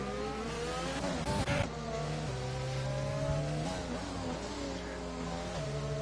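Formula 1 cars from the F1 2020 racing game at the British track, engines whining and shifting pitch as they accelerate and pass, steady and fairly loud throughout.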